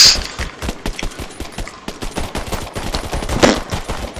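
Gunfire from the video game Earthfall: a rapid, loud stream of shots with sharp bursts coming close together for several seconds, tightening into a heavier cluster near the end.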